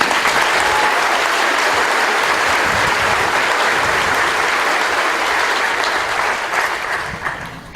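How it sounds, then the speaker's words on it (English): A graduation ceremony audience applauds the cadre with loud, dense, sustained clapping that fills the space alone and then begins to thin out near the end. "Please join me in a round of applause for the cadre."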